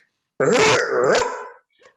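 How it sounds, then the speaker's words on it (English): A dog gives one loud, close, harsh bark-growl that stretches for about a second before cutting off, followed by a faint brief sound. "V'ata kalba, came the dog."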